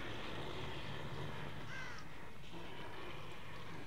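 A crow caws in The Evil Within video game, a short call rising over a low, dense droning backdrop of game ambience, with no voices.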